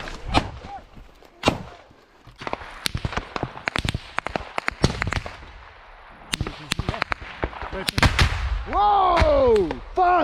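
Gunfire in a battle involving Chosen Company: sharp, loud cracks fire irregularly and rapidly, some in clusters, close by, with a shouting voice rising near the end.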